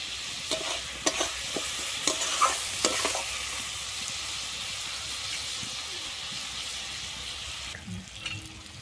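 Spice masala with sugar sautés in a pan for a Bengali fig dish, a low steady sizzle under sharp scraping stirs early on, fading to a quieter hiss, with no talking.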